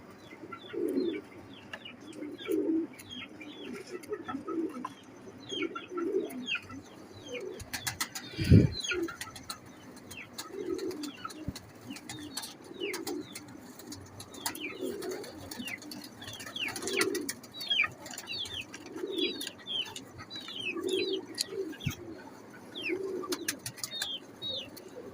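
Red-eyed pigeons coo in a repeated, soft rhythmic pattern, with occasional chirps and a brief flutter of wings partway through; no one speaks.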